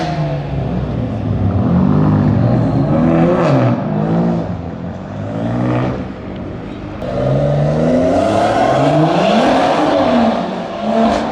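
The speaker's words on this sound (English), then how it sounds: "the sound of a B58." A BMW B58 inline-six in a modified G87 M2 revs hard and loud, close by, in repeated rising sweeps with a brief dip near the middle, no talking over it.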